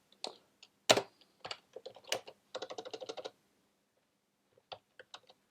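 Clacking keystrokes on a wired computer keyboard, close and crisp, arriving in irregular bursts and then a quick run of rapid taps, with short pauses between.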